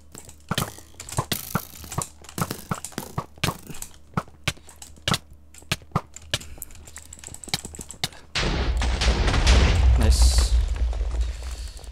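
Gunfire in a Minecraft video game: a string of sharp, separate shots in an irregular rhythm, followed by a louder stretch of dense, noisy action.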